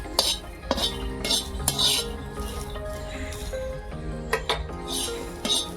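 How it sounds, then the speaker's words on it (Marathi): Pigeon pea grains dry-roasted without oil in a metal pan, stirred with a spatula that gives repeated sharp metallic clinks and scrapes, with a soft rattle of grains between strokes and no talking. "हे दाणे छान असे भाजून घेते"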